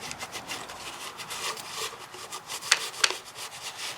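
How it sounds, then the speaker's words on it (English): Old gasket material is scraped off the engine of a 2002 Ford Taurus, a dry, gritty rubbing with uneven strokes close by and two sharper scrapes near the end, with no talk. "so we're gonna clean this area. Remove the old gasket material"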